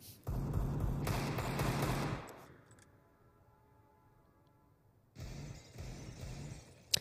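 Bursts of automatic gunfire in the video game CS:GO, a loud rapid volley for about two seconds, a quiet gap, then another volley, without voices.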